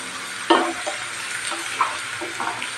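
Spinach stems sautéing in a pan for keerai thandu kootu, a low crackling sizzle broken by several brief stirring scrapes and taps.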